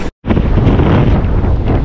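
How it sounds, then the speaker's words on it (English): Strong wind blasts across the microphone on a fishing boat, a loud continuous roaring rush that starts after a brief moment of silence and stays heavy throughout. "Yes guys, this wind is blowing,"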